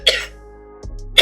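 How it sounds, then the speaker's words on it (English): A person coughs, two close, sharp bursts separated by a short pause, with a faint throat sound in between. It is loud and near, with no talking. "I was talking so much, I started coughing."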